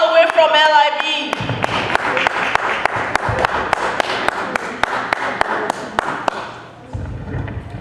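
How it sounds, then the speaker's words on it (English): Audience applause greets the Uptown Boys as they take the stage at an event, steady hand clapping with sharp thumps running for several seconds after a host's introduction, then fading. "let's give them a hand of applause"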